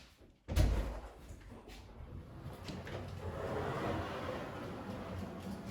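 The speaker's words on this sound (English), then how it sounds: "As you can see, we have a bifold door fitted." A bifold door opens nearby onto an outdoor space with a sharp thud, then steady outdoor background noise fills in and slowly grows.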